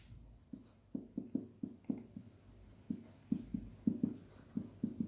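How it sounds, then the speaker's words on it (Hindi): Chalk or marker taps and scratches on a board while an equation is written, in short irregular strokes, close and fairly quiet, with no talk. "तो सबसे पहले मैं यहां लिखता हूं"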